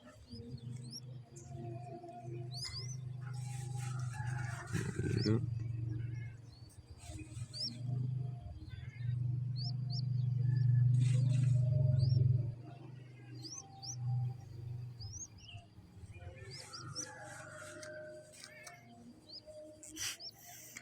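A perkutut, the zebra dove, kept in captivity, gives low, resonant cooing notes in a drawn-out run, with scattered high chirps and faint rustling in a quiet space.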